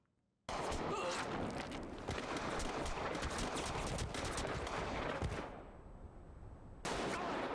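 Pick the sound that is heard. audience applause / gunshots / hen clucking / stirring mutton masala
gunshots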